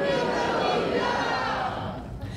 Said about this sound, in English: I need to know if you, the late crowd, Sarasota, can say for me, Juanita Lolita.